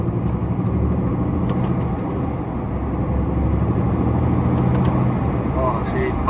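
A DAF CF85 Euro 6 HGV truck on a road test pulls hard under acceleration, a loud steady low diesel drone heard from the cab with faint ticking and rattles above it.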